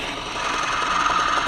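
A steady, whining power drill with a 3/16 bit bores through a ferro rod continuously at close range, its pitch holding level with no pauses.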